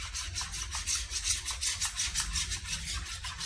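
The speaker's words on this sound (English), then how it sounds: "we whisking our two eggs" Two eggs are whisked in a bowl for fried shrimp. A whisk scrapes rapidly and rhythmically with a steady, brisk tapping. It is close and continuous, with no talk.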